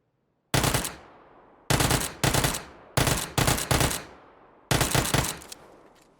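Automatic gunfire in the PUBG video game on console: five sharp bursts of rapid shots, loud and close, each ringing out into a decaying echo between gaps of silence.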